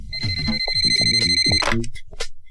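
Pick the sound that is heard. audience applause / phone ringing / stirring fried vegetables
phone ringing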